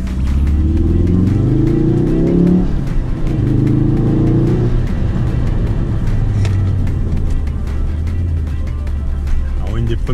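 A warm Ford Focus RS Mk3 engine runs loudly up close, its note rising and falling as it revs, with a voice speaking over it at times.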